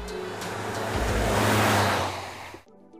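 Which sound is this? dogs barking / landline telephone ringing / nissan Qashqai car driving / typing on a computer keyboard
nissan Qashqai car driving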